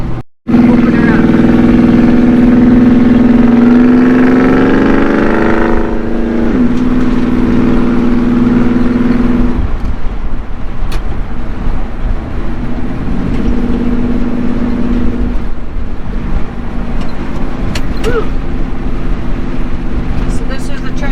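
A 1979 Dodge Li'l Red Express truck engine rumbles loudly, revving up with a rising roar, then settling back to a throaty idle before revving again briefly.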